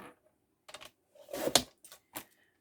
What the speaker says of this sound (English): And then move it over 1/2 inch and cut it off.